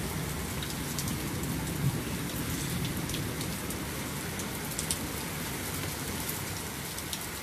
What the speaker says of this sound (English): So, it's a stormy night, y'all.